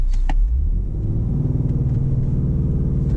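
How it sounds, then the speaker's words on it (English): A 2020 Ford Explorer ST with a 405 hp engine accelerates hard from inside the cabin, a loud, steady low engine roar building after a brief thump at the start, with no talking. "This hard brake, hard gas."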